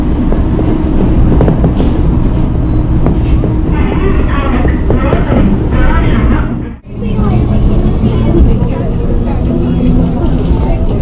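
Metro train in motion heard from inside the carriage: a steady, loud rumble and rattle continues throughout, dipping briefly about two-thirds through before resuming, with voices murmuring underneath.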